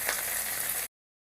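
Neem leaves and onion frying in a pan with turmeric powder, a loud, dense, close sizzle running steadily for under a second before cutting off abruptly.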